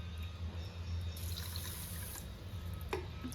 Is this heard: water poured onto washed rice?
yes